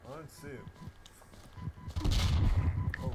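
Gunfire in the Roblox shooter Fireteam, a dense burst of rapid shots building loud near the end, with voices talking over the first half.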